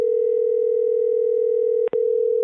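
A steady telephone line tone hums continuously, loud and close, broken once by a quick double blip near the end, as an outgoing call rings toward voicemail.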